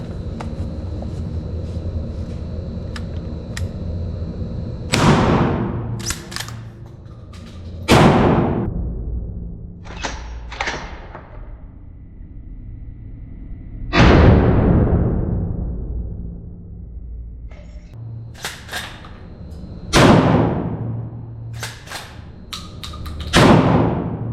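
Gunshots at an indoor shooting range in Warsaw ring out as sharp, loud single reports, about seven or eight over the span, spaced irregularly with echoing tails over a low background rumble.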